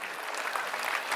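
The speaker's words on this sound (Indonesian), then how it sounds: "Tepuk tangan untuk seniman kita." Dense applause from a large crowd at the opening of the Bali Arts Festival, filling the space evenly and steadily throughout, with no voices standing out above it.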